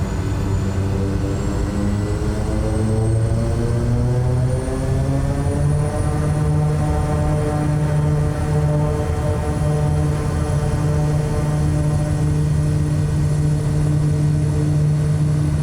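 SWS Kodiak single turboprop in the MSFS 2024 game spooling up on its takeoff roll, a loud continuous engine drone with a rising propeller tone and whine that climbs in pitch as the aircraft accelerates.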